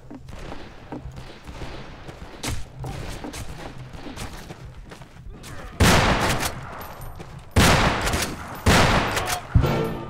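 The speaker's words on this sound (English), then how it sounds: "Why is this thing not shooting?" Gunfire from the western shooter game Fistful of Frags: a rapid burst of closely spaced shots, then several loud, sharp reports in separate bursts over steady game ambience.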